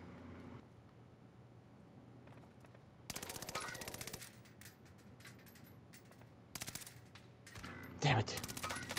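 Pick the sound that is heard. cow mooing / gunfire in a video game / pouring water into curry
gunfire in a video game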